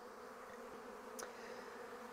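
Honeybees buzz in a tub during a spring hive inspection, a faint, steady hum with a brief knock partway through, no voices.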